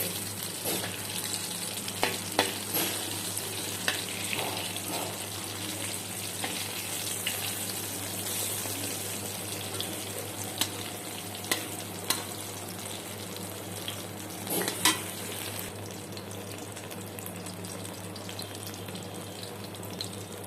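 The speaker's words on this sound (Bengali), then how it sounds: "নিয়ে নুন হলুদ মাখিয়ে আমি গরম তেলে ভালো করে ভেজে নিচ্ছি।" Eggplant slices coated with salt and turmeric fry in hot oil, giving a steady close sizzle with occasional clinks and light scraping throughout.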